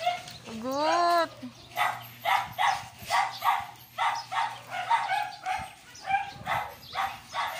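Chow Chow dogs bark in a rapid run of short, rhythmic close barks, opening with a rising whine-like yelp, over a faint background hum.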